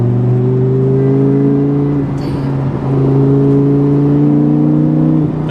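A Lamborghini Gallardo with over 500 horsepower accelerates hard, its engine drone climbing loud and close, dipping at one gear change about two seconds in before rising again, with no talking.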